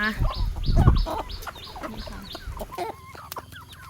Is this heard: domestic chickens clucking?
yes